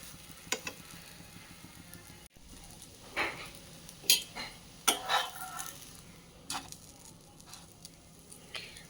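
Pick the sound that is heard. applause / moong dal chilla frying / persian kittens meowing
moong dal chilla frying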